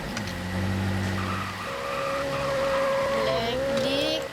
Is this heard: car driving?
yes